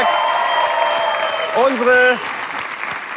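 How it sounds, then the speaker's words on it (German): A studio audience at a German evening TV entertainment show applauds steadily and loudly, with a voice speaking over the clapping partway through. "Großen Applaus"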